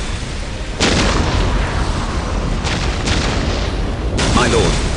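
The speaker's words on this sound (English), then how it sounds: "We will silence that Orc artillery." Ork artillery fires in the PC game Warhammer 40,000: Dawn of War (2004), with several heavy booming blasts over a constant rumbling battle din. Voices talk over the explosions.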